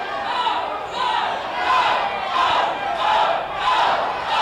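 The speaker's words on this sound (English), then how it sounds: "The crowd's getting into it." Crowd at an independent wrestling show roaring and cheering in surging waves, loud and close, with voices mixed into the noise.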